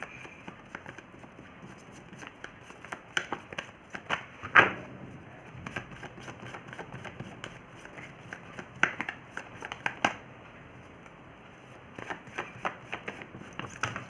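Tarot cards are shuffled close by in repeated soft riffles and flicks, with sharper slaps scattered through the patter and no speech.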